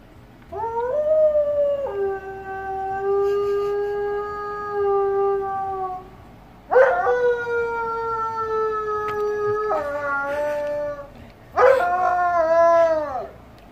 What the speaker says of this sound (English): that's what it sounds like when a wolf dog howls